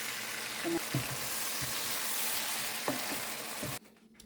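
Garlic-ginger paste frying with cayenne pepper and shrimp in a pan, a dense steady sizzle with a few stirring clinks, cutting off abruptly near the end.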